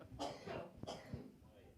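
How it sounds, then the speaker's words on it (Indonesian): A man coughs twice in close, rough bursts during a live-streamed Batak band event, with a little throat noise around them. "Jadi batuk nih."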